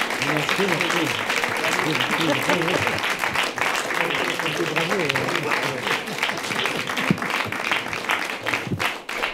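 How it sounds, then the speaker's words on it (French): A crowd applauds the Cosmolitude team at a debate event, steady clapping running throughout while a voice talks over it. "on va applaudir toute l'équipe de Cosmolitude parce qu'ils le méritent"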